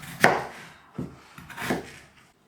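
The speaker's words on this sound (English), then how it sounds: "then we'll cut those into chunks. Try and get them about the same size." A knife chopping peeled potatoes into chunks on a board, for a Scottish potato and cabbage dish: a few separate close cuts, the first sharpest, spaced unevenly, with no talking.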